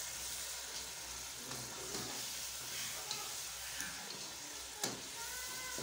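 Chicken and small chickpeas simmering in a pot for white pulao, giving a steady, close sizzling hiss with faint bubbling and a few soft clinks, no voices.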